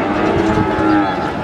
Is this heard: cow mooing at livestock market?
yes